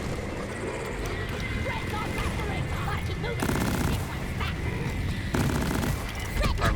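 Rapid gunfire crackles in quick bursts in the dwarf shooter Deep Rock Galactic, moderately loud beneath steady chatter between players.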